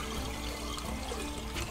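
Water running steadily at a campervan filling point, a continuous close rush and splash of flowing water, moderately loud and even throughout the short stretch.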